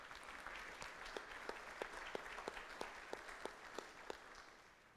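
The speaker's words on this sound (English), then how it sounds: "If we give her a round of applause." Faint, distant audience applause at a Rotary club changing-of-guard gathering, a thin patter of scattered claps with a few sharper individual hand claps standing out, with no talk over it.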